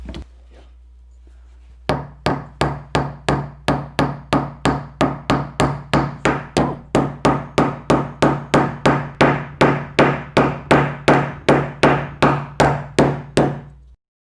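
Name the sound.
hammering a nail into wood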